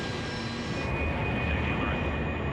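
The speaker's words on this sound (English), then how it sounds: "now the pilots rev the engines while standing still" The turbofan engines of a large military aircraft are revved while it stands still, making a loud, steady jet roar with a thin whine above it. The roar builds slightly and stays close.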